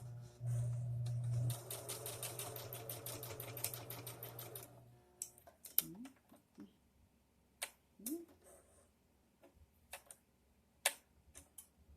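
A sewing machine stitches a straight seam for bias tape, a fast rapid whirring of stitches up close for several seconds, then stops, leaving scattered clicks and handling knocks.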